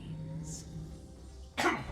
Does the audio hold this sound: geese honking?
no